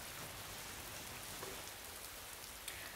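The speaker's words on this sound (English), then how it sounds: "Well, the rain kept on coming." Steady rain falls as a dense, even hiss with faint patters of drops, a quiet sound effect in a retelling of the great flood, without any voices.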